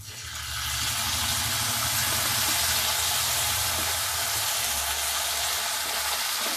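Chopped ginger fries in a pan as part of a chicken 65 recipe, giving a steady, close sizzle with a broad hiss that rises quickly and stays even throughout, with no talking.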